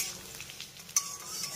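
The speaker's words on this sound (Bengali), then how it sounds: "লো ফ্লেমে এইভাবে রসুনটাকে একটু তেলের সঙ্গে কয়েক সেকেন্ডের মতো ভেজে নেব" Chopped garlic, five or six cloves, frying gently in oil over a low flame for a bean mash, a soft steady sizzle with light stirring and one brief utensil clink near the middle.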